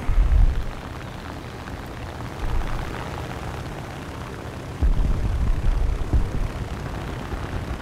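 Propeller aircraft engine from a plane in War Thunder, M2 ground realistic battle, a steady low droning roar with several louder surges and rumbling bursts, no talk over it.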